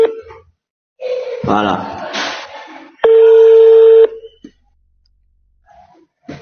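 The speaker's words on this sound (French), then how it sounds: "Donc j'appelle en direct hein, devant vous tous." Telephone keypad tones as a call is placed, a series of touch-tone beeps followed by a long steady tone, with someone speaking French briefly before and a single word spoken amid the tones.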